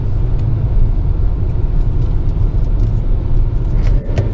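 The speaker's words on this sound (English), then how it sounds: "Kind of have to wait for that turbo boost before it goes." Steady engine rumble from a 2025 Hyundai Kona N-Line S AWD with a turbo engine pulling away from a stop, a constant low drone heard from inside the cabin.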